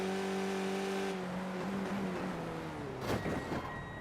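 Onboard race car engine from an iRacing Skip Barber race at Phillip Island, a steady loud harmonic drone that drops in pitch as the car lifts, then a brief rev burst near the end, with no talk.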